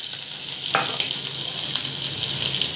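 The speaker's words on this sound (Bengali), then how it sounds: "এটাকে আমি একটু লাল লাল করে ভেজে নেব।" Thick-cut onion and dried chillies fry in hot oil in a steady, close sizzle that keeps going for the whole stretch, with a faint scrape of stirring near the start.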